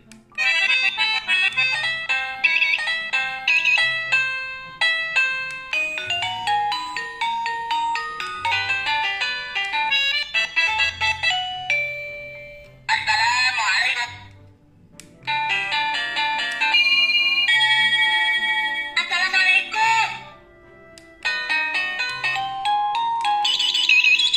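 A Linbell wireless battery-free doorbell cycles through its selectable chime tones: bright electronic melodies and ding-dong jingles play loudly and continuously, one after another with brief pauses between tunes, and no voices are heard.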